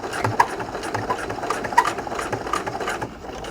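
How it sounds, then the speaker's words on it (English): Sewing machine stitching a buttonhole in denim shorts, a close, moderately loud mechanical chatter in short uneven bursts as the needle works back over the starting stitches. "I angle back and overlap where I began stitching so that there will be 2 lines of stitching overlapping one another."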